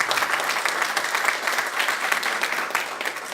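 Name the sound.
applause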